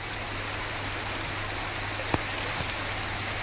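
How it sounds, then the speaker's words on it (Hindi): Heavy continuous rain falls in Ratlam during flooding, a steady dense hiss of water with a low hum beneath and one brief knock, constant and fairly loud throughout. "लगातार बारिश हो रही है और हर तरफ पानी ही पानी है"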